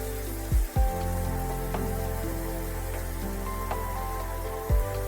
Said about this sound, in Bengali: এবার পুরো চাল কুমড়ো একেবারে ভালোভাবে তেলের সাথে একটু নাড়াচাড়া করে নিতে হবে